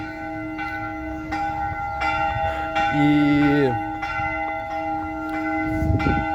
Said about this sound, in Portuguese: tá batendo o sino aqui, mas bom, vai sair aí o sino lá da igreja lá em cima